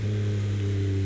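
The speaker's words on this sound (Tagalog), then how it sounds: "Grabe yung tunog ng downshift." A motorcycle engine drones steadily and close while riding on a solo ride around Antipolo, its low hum holding a fairly even pitch through the whole moment.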